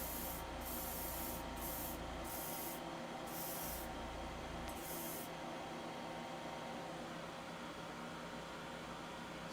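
A spray can gives a steady, close hiss while priming small plastic parts from a Master Grade GM 2.0 robot model kit. Several short, brighter bursts come through near the start, then the spray settles into an even rush.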